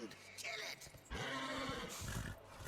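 A horse in the video game Darksiders neighs and whinnies loudly, harsh roaring cries in bursts over game effects.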